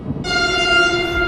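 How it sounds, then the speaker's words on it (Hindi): A metro train comes in at high speed and sounds a loud, sustained horn blast that begins abruptly and holds steady over rumbling rail noise. "मेट्रो तेज रफ्तार में आ रही है"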